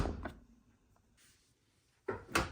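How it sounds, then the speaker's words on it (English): A Bosch dishwasher with a front display and E15 fault, its door shut after the panel screws are removed: a brief knock at the start, a quiet pause, then two solid thumps near the end. "close the door."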